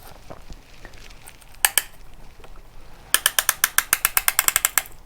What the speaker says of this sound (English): This is a piston ring compressor. You just put it on. Now we're going to tighten.